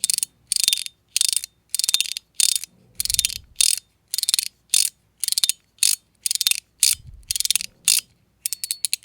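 Flipoo fidget toy by Pel-c being worked on its dense side, giving a series of sharp, close, loud bursts of ratcheting clicks with short silent gaps between them, ending in a quicker run of lighter clicks.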